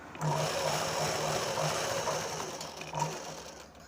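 A domestic sewing machine runs steadily while stitching a folded cross seam on a boat neck blouse, a close, continuous mechanical whir with a faint repeating rhythm and no talk.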